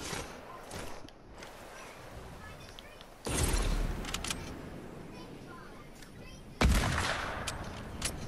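Sniper rifle fire in Fortnite: three loud, sharp shots spaced a few seconds apart, each with a ringing tail, over quiet game ambience and occasional talk.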